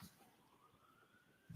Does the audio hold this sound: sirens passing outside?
yes